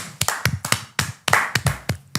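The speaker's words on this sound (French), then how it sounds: "On peut applaudir quand même." A handful of people clap in a small studio setting during a French interview, giving sparse, uneven, close claps with gaps between bursts.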